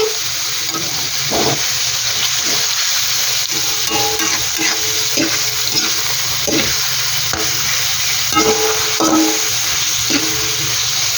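Pork for menudo frying and being stirred in a pan, a steady close sizzle with repeated scraping strokes of the utensil running throughout.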